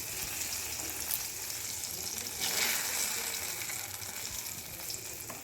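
Eggplant slices fry in hot oil with a steady, moderately loud sizzle, briefly swelling midway.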